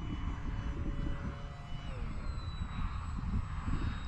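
Durafly Tundra V2 radio-controlled trainer plane flying nearby, a steady faint propeller drone with a brief thin whine. Someone talks over it.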